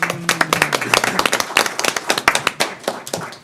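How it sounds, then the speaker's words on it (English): Applause at a school district board of education meeting honoring an employee of the month, a small group clapping briskly and close for a few seconds, with a faint voice underneath. "let's give her a round of applause"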